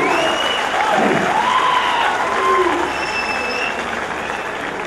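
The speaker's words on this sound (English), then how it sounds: "I expect my students to join hands together and give a very rousing applause when I arrive." Audience applause at a university gold medal function, sustained dense clapping throughout at fairly close range, with faint voices mixed in.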